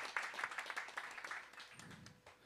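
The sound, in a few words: congregation giving welcome applause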